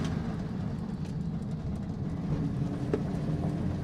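A 1940s Canadian Morris Minor Lowlight car hums steadily from the cabin as it shifts up into third gear, a constant low engine and road drone with no talk.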